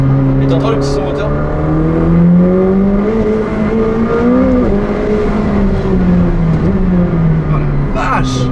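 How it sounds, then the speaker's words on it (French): A McLaren 765LT's engine drones and rises and falls in pitch while driving, heard from inside the car under people talking. "Et t'entends le petit son moteur?"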